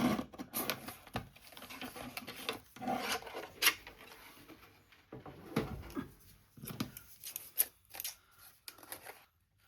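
Scissors snip repeatedly through folded ribbon trim, a run of short, crisp rasping cuts close by with brief pauses between strokes; no one speaks.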